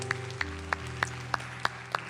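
Slow, evenly spaced claps, about seven over two seconds, from a small group during a church service for new believers, fairly faint over a steady low hum.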